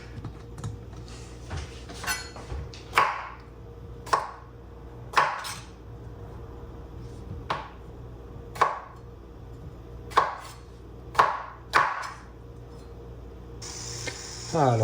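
A knife chops vegetables on a board in a home kitchen in Canada, delivering a dozen or so sharp, evenly spaced thuds at a relaxed pace, close and distinct, with faint talk in between.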